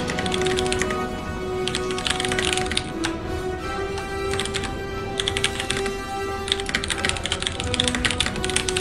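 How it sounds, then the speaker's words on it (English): Fast, continuous typing on a computer keyboard, dense bursts of sharp key clacks in several runs with short pauses between them, loud and close over a steady background hum. "what are you Christian typing? Going hard"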